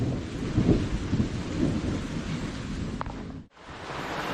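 Heavy rain pours steadily, close and dense, with a low thunder rumble rolling under it near the start, heard outdoors while lobster curry and escovitch fish are being cooked; it cuts off briefly near the end.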